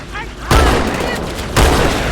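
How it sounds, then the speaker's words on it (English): Shotgun blasts in Halo 2, two heavy booming shots about a second apart, each followed by a sustained loud rumble of combat noise. "A very kind Marine has lent us his shotgun"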